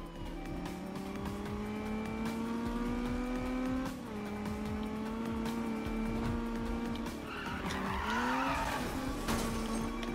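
A car drifts in the Need for Speed video game, its engine droning steadily with shifting revs throughout, then tires squeal loudly near the end as the car slides.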